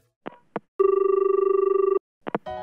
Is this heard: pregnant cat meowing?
no